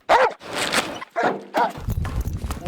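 A Belgian Malinois police K-9 barks sharply at a training range, several loud close barks in quick bursts with scuffling and handling noise between them.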